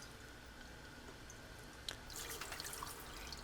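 Water flushes through the filters of a reverse-osmosis water cooler, a faint steady trickle with dripping that grows into a louder splashing flow partway through.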